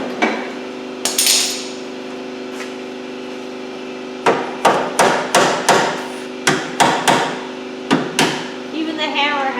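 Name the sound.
plastic hammer striking car body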